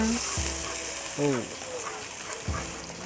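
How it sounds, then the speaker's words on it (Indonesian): Spices fry in a hot pan with a steady, bright sizzle that fills the whole stretch, while someone talks over it in short phrases. "Kalau kira-kira udah mulai panas, baru kita masukin bumbunya."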